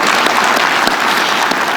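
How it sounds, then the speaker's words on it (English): Steady applause from a large crowd in the UN General Assembly Hall, dense and even clapping filling the room throughout with no voices standing out. "Give yourself a round of applause."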